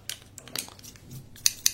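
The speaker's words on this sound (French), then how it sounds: "Donc j'ai deux paires de ciseaux." Two pairs of scissors, one white and one black, snip in quiet close-up: a few crisp cuts spread across the moment, ending with two sharp, bright snips near the end.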